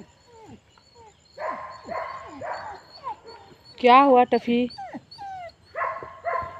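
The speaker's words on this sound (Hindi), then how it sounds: "वो कुत्ता भौंक रहा है" A dog barks repeatedly near a yard where chickens are grazing, a series of close, sharp barks with some higher whimpering yips, while someone speaks between them.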